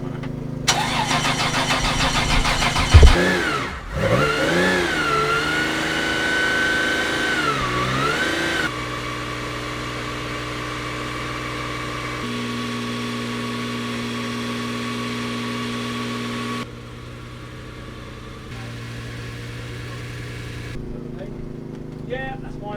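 A 1968 Porsche 911 fires up with a loud bark and a few sharp revs, then settles into a steady, even idle that drops slightly in level near the end.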